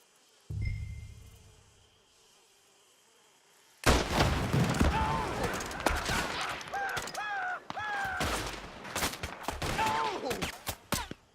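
Gunfire in the Red Dead Redemption 2 video game: after a quiet start with a faint game tone, a loud burst of rapid shots breaks out and continues as a dense, sustained fusillade of overlapping cracks and echoes.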